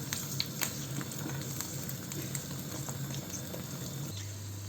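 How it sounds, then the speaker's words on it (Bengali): Steady soft sizzling of garlic frying in oil, a constant bubbling crackle with occasional sharper pops throughout, no voices. "হালকা একটু ভাজা হওয়ার পরেই আমি সিদ্ধ করে রাখা জলপাইটা দিয়ে দেবো"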